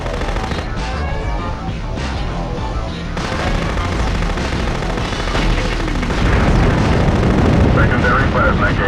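Machine-gun fire, grenade blasts and missile explosions from a police combat vehicle in Future Cop: L.A.P.D. on the original PlayStation, a dense continuous barrage of shots and booms that grows heavier toward the end, with faint talk underneath.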